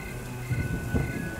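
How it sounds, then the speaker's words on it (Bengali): Heavy rain at night in a Free Fire horror video game, a dense steady downpour with low rumbling swells, alone without voices. "মধ্যরাতে মনে হলো যে বাইরে অনেক জোরে বৃষ্টি পড়তেছে।"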